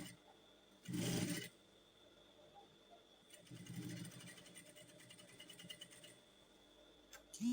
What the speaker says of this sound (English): I'm going to be sewing here like so, all the way down till to this place